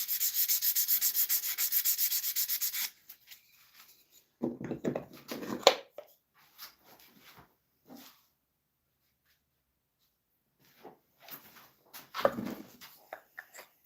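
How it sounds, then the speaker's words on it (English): Wood being sanded before a second coat of finish: a steady, loud, rasping scrape for about three seconds that then stops, followed by scattered quieter knocks and shuffling, with no speech. "A lot of sanding."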